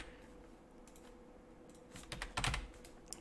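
Quiet, close typing on a computer keyboard, a short burst of soft key clicks that grows briefly busier and louder near the end, alone with no voices.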